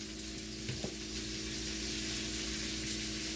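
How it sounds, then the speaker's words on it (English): Steady, close sizzling of butter in a hot pan runs throughout, a constant crackling hiss with a brief clink near the start. "it's going to start sizzling really quickly because that pan's already nice and hot"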